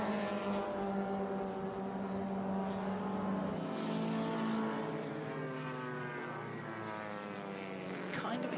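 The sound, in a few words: Mini race cars racing at Laguna Seca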